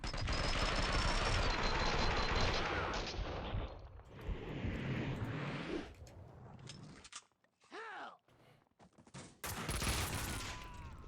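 Gunshots in Max Payne 2: The Fall of Max Payne, loud rapid bursts of gunfire with brief pauses, a whizzing ricochet-like sweep and sharp impacts, with some bursts close and heavy.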